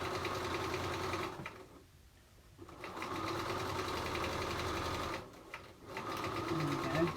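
A sewing machine stitching a fabric pouch runs in a loud, steady whirring buzz up close, stopping briefly twice when the needle is lifted and the slider moved aside, then starting again.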